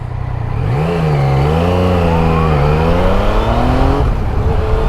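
A Yamaha Niken GT three-wheeled motorcycle is ridden into a corner, its engine droning loud and close with rising and falling pitch as the throttle changes, steady wind roar underneath.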